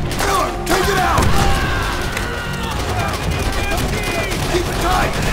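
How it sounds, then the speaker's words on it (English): Sustained machine gun fire in the video game Call of Duty: World at War, a dense rattling stream of shots mixed with thuds and distant gunfire, continuous and loud, with shouted voices on top. "Machine gun! Stay on him!"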